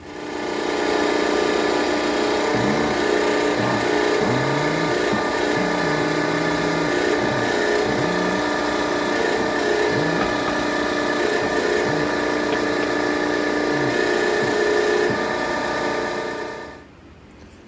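A small end mill cuts a keyway on a milling machine, a steady motor drone with repeated short cutting whines layered over it, close and continuous before it stops near the end.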